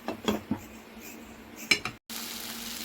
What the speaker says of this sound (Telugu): మూత పెట్టి మళ్ళీ కొంచెం మగ్గనిద్దాము మూత పెడుతున్నాం